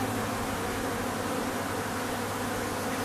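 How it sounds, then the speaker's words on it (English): Continuous close buzzing of Buckfast honey bees, a steady droning hum with no pauses. "these bees are quite tame actually"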